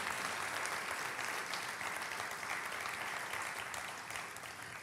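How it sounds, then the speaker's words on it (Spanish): A church congregation claps together in a continuous, even wash of applause during a sermon, steady and fairly quiet, tapering slightly at the end without speech. "Aplaude a ese Dios grande."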